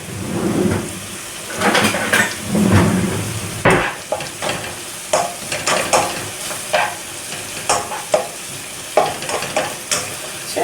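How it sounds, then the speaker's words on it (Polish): A light butter roux fries in a pan as it is stirred, giving a loud, close, continuous sizzle broken by repeated scraping strokes of the spoon, with no one talking. "masło wrzucam na patelnię i robię jasną zasmażkę"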